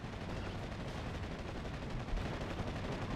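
Explosions and gunfire from a Second World War strategy game as mortar positions are destroyed, a dense continuous rumble of distant blasts and crackling shots with no talking.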